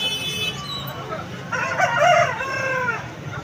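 A rooster crows loudly and close at the Nellore chicken market, its drawn-out call rising and falling after a brief lead-in, with other fowl clucking and murmuring in the background.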